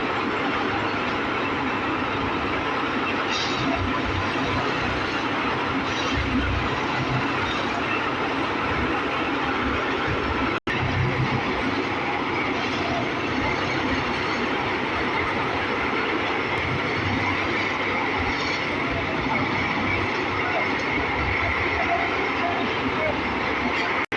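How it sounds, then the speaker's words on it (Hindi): A railway track machine works along the Balamau-Unnao line setting concrete sleepers and ballast, a loud continuous rumbling, clattering drone with rhythmic mechanical pulses throughout and a voice speaking over it. "ये देखिए किस प्रकार से ट्रैक के नीचे जो स्लीपर्स कंक्रीट के हैं और बजरी है उसको किस प्रकार से ये सेट करती है मशीन"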